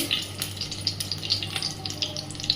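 Cloves, cinnamon and cumin frying in oil in a pan, a close crackling sizzle with small repeated pops spread across the whole short stretch.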